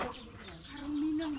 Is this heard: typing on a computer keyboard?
no